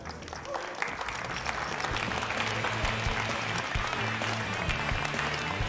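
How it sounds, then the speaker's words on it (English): Applause with a little cheering follows a won pot at a televised poker tournament table, a steady patter of clapping over a low crowd murmur, with faint voices mixed in. "James giving himself a little cheer for winning that pot"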